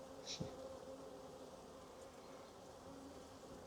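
Honey bees hum steadily on a half-undrawn hive frame with a newly imported queen, a soft continuous buzz close by with a brief louder pass near the start.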